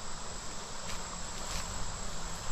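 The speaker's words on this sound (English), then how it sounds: "I see bees back in there." Honey bees buzz around a patch of blooming knotweed, a steady, dense hum that carries on without a break for a few seconds, with no voices over it.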